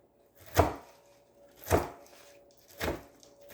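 Apples are coarsely chopped for an apple cake in a mixer, producing three separate dull, thudding pulses about a second apart, close and moderately loud, with near silence between them.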